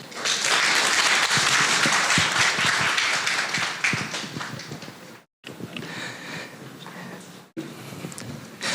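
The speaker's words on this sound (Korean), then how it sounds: "다시 한번 박수 부탁드리겠습니다." Audience applause after a workshop presentation, a sustained burst of many hands clapping that thins out, breaks off briefly, then picks up again in scattered claps near the end.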